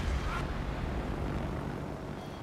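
The Eisbär, the player's plane in a flight combat game, gives off a steady, broad engine drone at even loudness throughout, close and continuous, with no voices.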